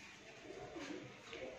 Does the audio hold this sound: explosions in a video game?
no